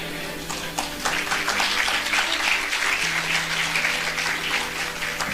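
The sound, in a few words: audience applause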